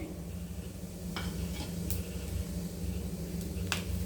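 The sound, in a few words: cinnamon, cloves, fennel, cardamom frying in hot sesame oil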